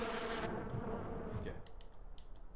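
A bee swarm attacking in Far Cry 4, a dense buzzing hum that is loud at first, then thins into scattered short clicks and faint buzzing.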